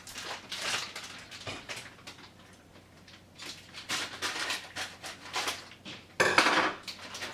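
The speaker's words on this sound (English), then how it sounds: "Then you're going to take the meat and put it in the pan." Vegetarian meat crumbles go into a pan on a stove for lasagna, heard as a run of close scraping, clattering and clinking bursts of a utensil against the pan, with a sharp louder knock near the end.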